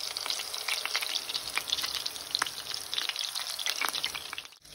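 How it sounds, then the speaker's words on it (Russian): Meatballs fry in olive oil in a pan, giving a steady, close crackling sizzle with bright spitting pops throughout, cutting off abruptly at the end. "Так, тем временем я вторую партию дожариваю."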